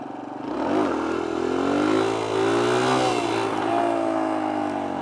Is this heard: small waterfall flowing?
no